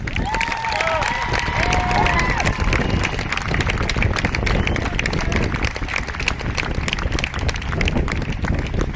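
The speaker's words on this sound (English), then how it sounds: "We're going to give ourselves a round of applause" At a racial justice march and teach-in, an outdoor crowd applauds and cheers, a dense, continuous rush of clapping and shouts that stays loud throughout, with a few voices rising briefly near the start.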